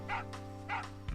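Two quick yapping dog barks from the Final Fantasy VIII video game ring out over a steady electronic hum, followed by a short thud at the end.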